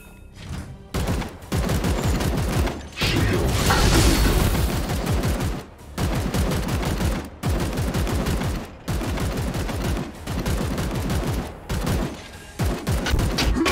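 Gunfire in the video game Warhammer 40k Chaos Gate Daemonhunters: loud rapid automatic bursts in several long volleys separated by brief gaps, with a heavier blast in the middle, no talk.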